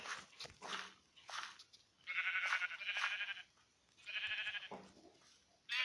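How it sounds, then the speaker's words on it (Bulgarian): Sheep in the Minecraft video game bleat several times in a row, with short, clear, nasal calls separated by brief pauses, fairly close and alone without any talk. "да убием тази овца"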